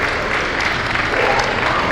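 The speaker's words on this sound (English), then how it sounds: "Nice round of applause." Brief burst of steady applause from spectators ringside at a national dog show sweepstakes, dense clapping heard alone at moderate distance.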